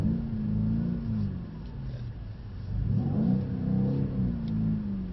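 A car engine revs under steady throttle, holding a moderate, slightly rising and falling drone while a driver is coached on keeping revs low to avoid wheelspin.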